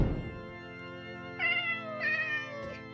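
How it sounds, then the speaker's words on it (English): A real house cat recorded for Minecraft game sounds gives one long, wavering meow that rises into strained, higher tones, close and clear with no other noise. "the cat sounds in Minecraft are just basic recordings of my funny cat"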